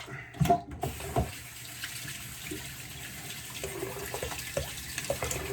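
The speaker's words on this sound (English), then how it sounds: "Give it a little rinse there." Razor rinsed under a running bathroom tap, water splashing steadily into the sink at close range, with a few brief knocks and taps near the start.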